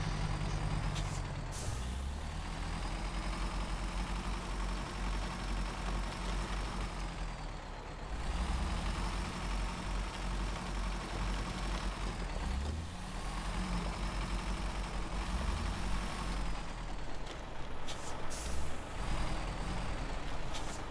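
Heavy truck reversing in the off-road driving game SnowRunner, a low rumbling diesel engine that surges and eases in long swells, with a brief air-brake hiss near the end, close and steady.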